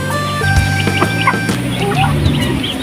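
Native hens and Rhode Island Red hens clucking nearby in a backyard flock, a loud busy mix of short overlapping clucks and calls.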